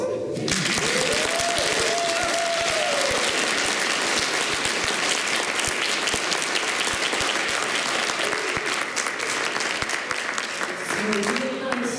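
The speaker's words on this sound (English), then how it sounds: "Another will be applause." Steady, dense audience applause fills a panel discussion at a design conference in Berlin, loud and unbroken, with a voice speaking briefly at the start and end.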